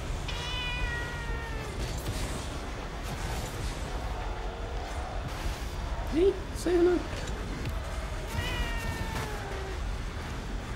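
A pet cat meows a couple of short times near the middle, close by but fairly soft, while a person talks over steady background noise and other voices.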